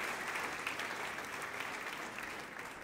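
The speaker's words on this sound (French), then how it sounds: "Est-ce qu'on peut les applaudir bien fort" A church congregation claps steadily throughout, a broad wash of applause heard at a distance and fairly quiet, tapering slightly toward the end.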